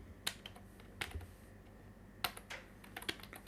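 Sparse clicks of a computer keyboard being typed on while writing Python code, a few separate quiet keystrokes and small clusters with pauses between, no voice.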